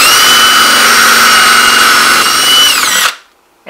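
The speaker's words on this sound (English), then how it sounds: "use a cordless drill with a fairly good sized bit, because you want to drill off the head of the rivet" A cordless drill with a fairly large bit bores off the head of a rivet, a loud, steady high whine with a grinding edge that runs for about three seconds, then winds down and cuts off.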